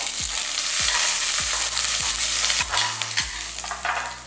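Garlic, ginger, coriander stems and curry leaves sizzle and crackle steadily in hot oil while being stirred for a mutton gravy, with repeated low scraping strokes of a spoon against the pan, close and continuous.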